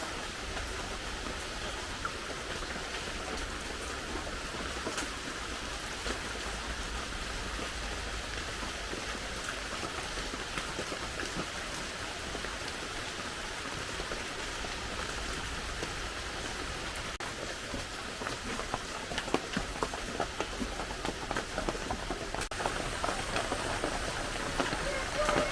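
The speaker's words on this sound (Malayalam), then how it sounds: "രാത്രി ഫുള്ള് അത്യാവശ്യം നല്ല മഴയാണ്." Heavy rain falls steadily through the night, a dense, continuous hiss of drops on surfaces that holds at an even level throughout, with a slight patter of louder drops near the end.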